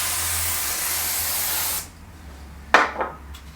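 A steady, loud aerosol spray hisses for nearly two seconds, then stops, followed by a couple of short clattering knocks nearby.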